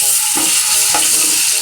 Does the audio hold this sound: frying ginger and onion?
yes